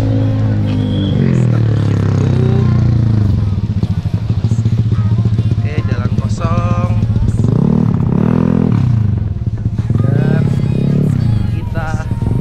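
A modified racing motorcycle engine at a workshop revs loudly in repeated bursts, rising and falling, over clattering workshop noise.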